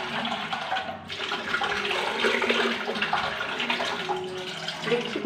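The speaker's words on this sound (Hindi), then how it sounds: "मुझे पानी दे दूची।" Water pours steadily into a cooking pot while making lauki aloo dalma, a continuous splashing gush lasting several seconds, close and alone.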